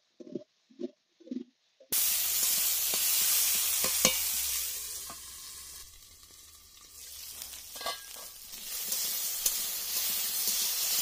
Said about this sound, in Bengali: এবার আমি এই কড়াইয়ের মধ্যে আলু ভেজে নেব